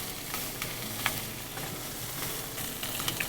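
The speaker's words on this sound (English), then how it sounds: "We're gonna continue doing this until all 4 sides are nicely seared." A pork loin sears in a hot pan, giving a steady close sizzle and crackle with small pops and spits throughout and no talking.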